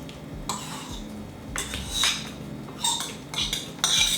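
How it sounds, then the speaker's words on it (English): Banana mush is scraped and transferred into a big bowl in a home kitchen, with several clinking and scraping hits of a utensil against dishes, spaced irregularly and fairly close. "So just gonna transfer the mush into a bowl, a big bowl because we're gonna have to whisk"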